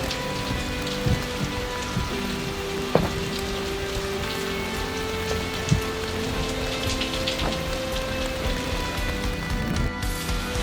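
Steady rain pours on a tent and canopy at a Korean seaside fishing campsite, a dense, even hiss with occasional louder drops and knocks, close and continuous with no voices.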